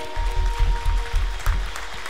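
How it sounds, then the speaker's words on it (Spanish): A church congregation applauding during worship, steady clapping with rhythmic low thumps pulsing under it, moderately loud and close, with no voices on top. "Dale fuerte el aplauso al Rey."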